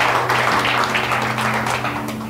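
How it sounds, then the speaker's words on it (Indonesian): Dense applause from a church congregation fills a Sunday service, continuous and fairly loud throughout, with music or a steady tone held underneath. "Berikan tepuk tanganmu kepada Tuhan"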